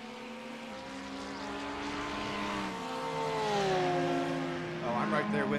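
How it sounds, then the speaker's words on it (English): LMP2 prototype race cars in a sim racing broadcast at Misano circuit, engines with a rising supercharger whine sweeping upward, several cars overlapping at mid distance while a commentator talks over them. "Listening to those superchargers in the LMP2."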